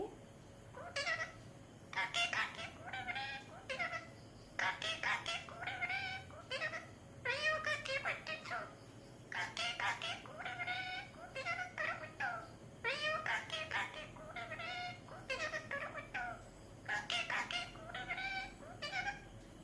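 A cat meows repeatedly in short bursts, fairly close, with a soft steady background hum and occasional clucking-like sounds.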